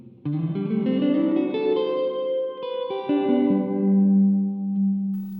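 An electric guitar runs through a Donner Verb Square reverb pedal with the effect level turned up high, sustained chords ringing out with a dense, lush wash of reverb that lingers and blends, played alone.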